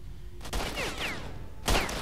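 Gunfire in the S.T.A.L.K.E.R. video game at a junkyard firefight: a couple of sharp shots ring out amid a steady noisy background, with whistling ricochet-like sweeps between bursts.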